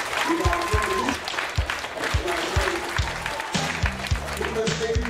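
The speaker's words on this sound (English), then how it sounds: "give me a hand clap here" A middle school audience claps along at a motivational hip hop show, sharp rhythmic hand claps in a steady beat that speeds up toward the end over a background of crowd noise.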